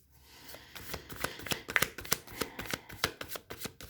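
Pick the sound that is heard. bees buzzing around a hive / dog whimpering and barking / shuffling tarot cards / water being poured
shuffling tarot cards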